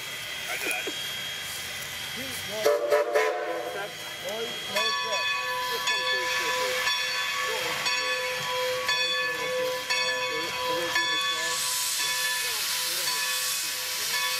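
A steam passenger train hissing at rest at a small station on the Strasburg Rail Road, with a burst of venting steam and a sustained whistle-like tone; background voices murmur faintly.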